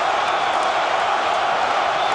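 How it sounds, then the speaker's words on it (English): A large boxing arena crowd at the George Foreman versus Evander Holyfield fight roars and chants between rounds, producing a dense, steady wash of voices with no breaks. "The crowd is chanting between rounds."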